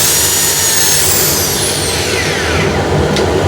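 A wood lathe spinning at 1400 RPM while Hermes 120 grit sandpaper is pressed against the turning workpiece, producing a loud, constant broadband whooshing roar with faint shifting whine, close and steady throughout without any talking.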